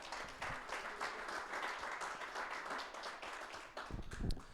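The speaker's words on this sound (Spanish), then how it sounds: "De un aplauso al Señor" A church congregation applauding, a dense wash of many hands clapping steadily for several seconds, somewhat distant and moderately quiet.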